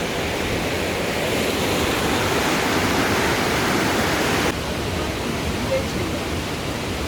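Steady, dense rush of water falling at Güney Waterfall in Kapuzbaşı, loud and continuous, dropping slightly in level partway through but never pausing.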